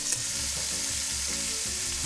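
Oxtails sizzle steadily in hot coconut oil, a continuous close frying crackle with low stirring bumps throughout, no voices.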